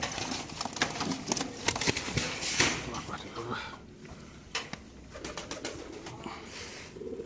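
Racing pigeons coo softly in a loft while people talk nearby, the low cooing mixed with handling noises, wing flutters and clicks.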